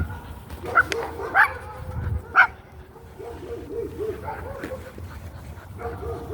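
A dog in a park gives a few sharp yips and barks, then whimpers and whines softly, close by and mixed with someone talking.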